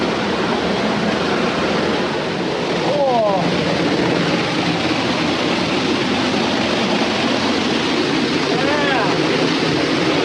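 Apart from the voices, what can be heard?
waterfall, Lower Stoddard Falls, heard up close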